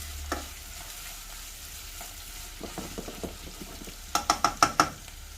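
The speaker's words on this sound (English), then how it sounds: "pop our onions in. Give that a stir." Onions fry with a soft sizzle in a pot while a utensil stirs them, producing several scraping clinks near the end, close and otherwise quiet.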